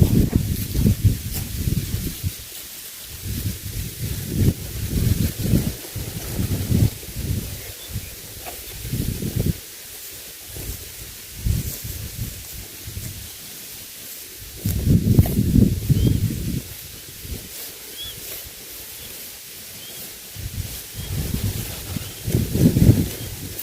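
Dry, chilly wind gusts outdoors across open rice fields, buffeting and rustling in uneven surges that swell and fade over a steady hiss, with no talk.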